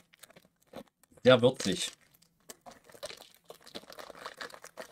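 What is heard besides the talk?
plastic snack bag being opened and crinkled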